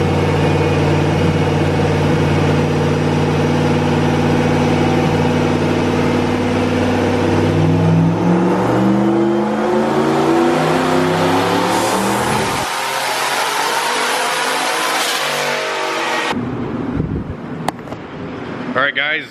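A turbocharged Chevy Nova running E85 revs hard under boost, its engine note climbing steadily in pitch through a long pull before cutting off abruptly, then blipping briefly again near the end.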